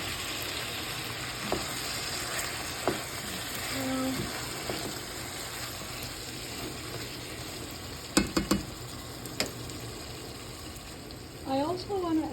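Chili and tomato fry with spices in a pan, a soft continuous sizzle with occasional stirring clinks and scrapes, while a voice speaks briefly near the end.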